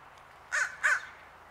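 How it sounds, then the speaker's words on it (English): Two loud, harsh caws from crows in a park, spaced about a quarter second apart, standing out clearly over faint background noise. "We've got a few crows coming in."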